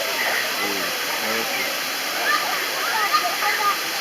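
Steady rushing roar of the waterfall at Man, Ivory Coast, fed from a large mountain, fills the scene, with a voice talking over it.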